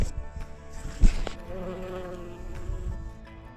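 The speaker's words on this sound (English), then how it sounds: "Bumblebee buzzing around the word strawberry on my water bottle." A bumblebee buzzes around a water bottle on a trailside break during a Tahoe Rim Trail thru-hike, its drone rising and falling as it circles close by, with a few rustles and handling knocks and no speech.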